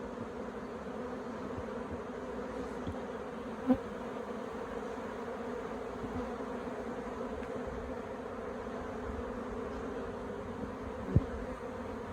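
Honeybees in a stressed, queenless beehive with small hive beetle trouble hum in a steady, dense buzz throughout, with a couple of brief knocks against the hive.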